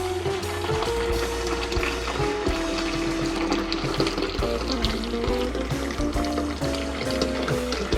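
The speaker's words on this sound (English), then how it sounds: "I pour it in slow." Liquid pours steadily into a gallon jug nearby, a continuous gurgling trickle that runs without break for several seconds.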